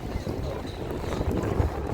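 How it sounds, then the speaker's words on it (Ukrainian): Wind buffets the microphone in a continuous low rumble and rush on Langeron beach in Odesa, steady throughout with no other clear sounds. "але трохи є вітер"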